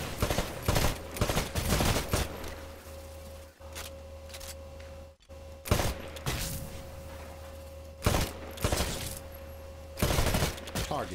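Rifle gunfire in the Titanfall video game, aimed at shooting-range targets: loud bursts of shots in repeated volleys across the span, with a steady mechanical hum beneath.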